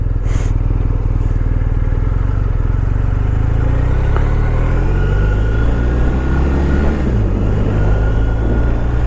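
A brand-new motorcycle with only a few kilometres on it is held in one gear and revved up and down on a ride, its engine droning loudly and rising and falling steadily beneath heavy wind rumble.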